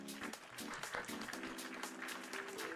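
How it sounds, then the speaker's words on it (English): A faint round of clapping rises during a livestreamed coding session, soft and rhythmic, mixed with tonal, sound-effect-like hits in the background. "Round of applause."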